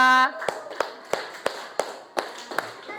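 A handful of sharp, evenly spaced claps ring out in a classroom coding lesson as a student named Napia is applauded, about eight distinct hand claps spread over a few seconds, moderately close and fairly thin.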